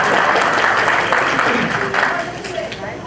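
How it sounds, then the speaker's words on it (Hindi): Audience clapping at a literary gathering, a broad steady wash of claps that stays loud and then thins slightly toward the end, with faint voices mixed in. "अच्छा आप तालियां बजा सकते हैं?"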